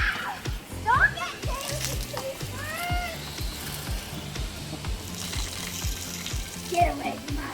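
Water sprays from a garden hose on a lawn, a continuous splashing hiss under excited talk from children and adults close by.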